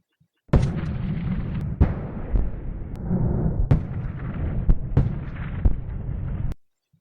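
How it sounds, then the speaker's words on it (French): Distant rolling artillery cannon fire from a First World War front, a continuous low rumble broken by repeated heavy booms and sharp reports over several seconds, then stopping abruptly. "au loin, il entend le lugubre feu roulant des canons"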